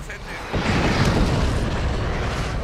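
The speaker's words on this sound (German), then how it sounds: "Granate!" A grenade blast in the video game Avatar: The Game: a sudden loud boom about half a second in, swelling into a dense, roaring rumble that hangs on for the rest of the moment, with a voice heard around it.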